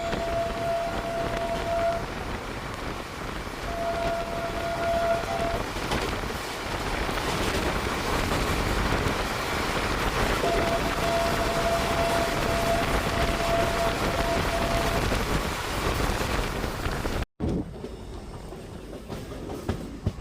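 A Kannada-route express train creeps along slowly, a steady low rumble with soft rail clatter and wind buffeting from inside the coach, a few thin tonal whines drifting in and out before an abrupt cut near the end.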